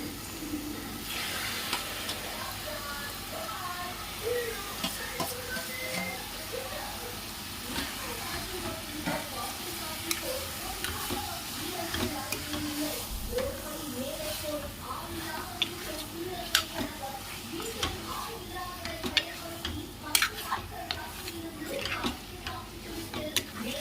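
Beef pieces, washed with turmeric and salt, stirred and frying in a pan for a Tamil-style beef gravy, a low continuous sizzle with scattered scraping and tapping of the spoon throughout.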